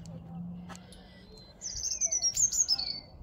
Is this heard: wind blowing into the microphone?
no